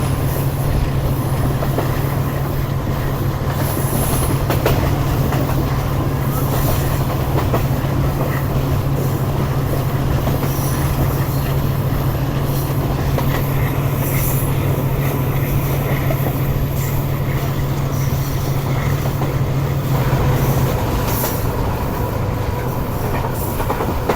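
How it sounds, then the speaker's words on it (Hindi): Passenger train 101, a Subah Ki Raftar railcar, pulls in with a steady low engine drone, clattering wheels and occasional squeals, a continuous close rumble that eases off near the end. "ये आ गई थी हमारी पूरी ट्रेन 101 अब सुबह की रफ्तार।"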